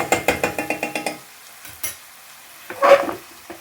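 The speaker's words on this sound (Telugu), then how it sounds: "ఒక 4-5 నిమిషాలు ఇలాగే మనం కలుపుకుంటూ హై ఫ్లేమ్ మీద వేపుకుంటే అప్పుడు మనకి ముక్క లోపల దాకా వేగుతుందనమాట" Chicken pieces frying on a high flame while being stirred: about nine quick, even scraping strokes, then a quieter sizzle broken by a few louder stirs.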